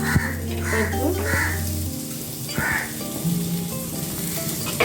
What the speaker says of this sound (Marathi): थोडासा तेल घातलं आणि कांदा घालून घेते पहिला